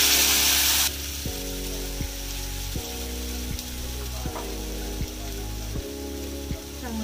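Mustard seeds sizzling in hot oil for tempering, a loud steady frying hiss with crackles and occasional stirring clinks, while a person talks over it.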